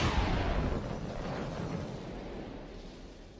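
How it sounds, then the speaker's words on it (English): A huge explosion at sea rolls out as a deep, roaring rumble that fills the whole clip, loud at first and slowly fading over about three seconds, with no voices. "The sky lit up with the huge explosion."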